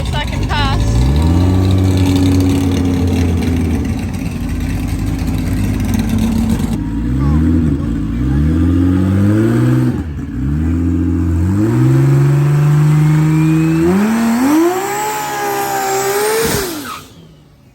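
A drag car on a drag strip at sunset revs hard through repeated rising engine sweeps, loud and close, with a sharp dip at each gear change before pulling away and fading at the end.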